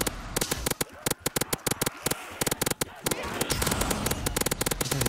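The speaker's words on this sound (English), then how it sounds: "That's a crazy amount of bullets." Rapid gunfire in Call of Duty Black Ops 3 Zombies, loud close bursts of shots in quick rhythmic strings that give way to a dense, continuous rattle.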